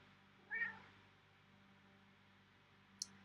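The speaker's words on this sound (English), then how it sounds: "See, I told you we'd have a kitty." A single cat meows faintly indoors, one short mew against a steady low hum and quiet room noise, followed later by a brief click.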